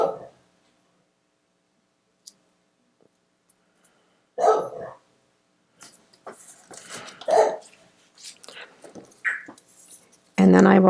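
A few sharp dog barks in short bursts, somewhat distant, separated by quiet gaps, with a person speaking softly in between.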